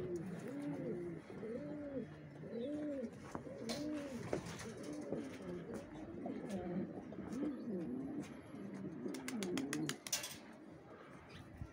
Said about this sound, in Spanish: aquí este no me he dado cuenta y ha venido con una paloma